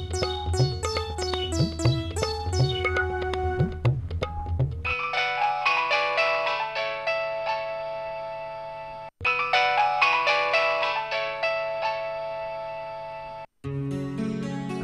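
A phone ringtone plays a loud melodic tune that repeats without pause for about fifteen seconds, with no talking.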